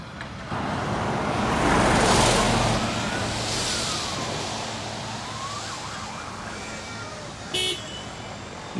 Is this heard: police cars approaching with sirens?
yes